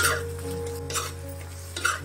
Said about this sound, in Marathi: ते आता आपण फोडणीत घालायचे